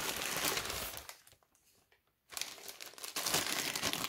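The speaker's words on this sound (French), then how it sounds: "je viens de recevoir les cachets de cire, du coup je vais l'ouvrir avec vous" A parcel of wax seals for scrapbooking gets unwrapped, its plastic packaging crinkling and rustling up close, then a brief quiet pause before more crinkling and tearing resumes.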